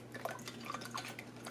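Filtered water poured into a measuring cup in a home kitchen, a short, close trickle with small drips and splashes, steady and fairly quiet throughout.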